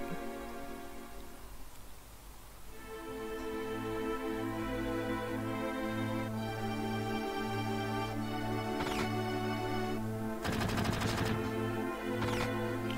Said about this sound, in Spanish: Han todo el bar pegando tiros.